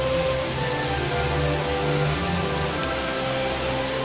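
Steady rain hisses across the whole stretch in the Lake District's Whinlatter Forest, a dense even wash of drops on surfaces with a low rumble underneath and no voices.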